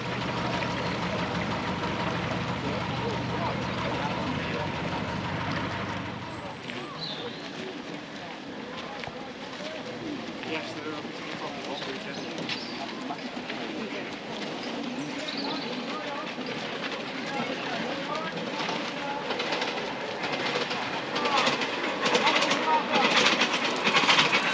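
Engine of an old canal boat at a canal festival idling with a low, steady chugging rumble, close at first then softer, while people talk nearby.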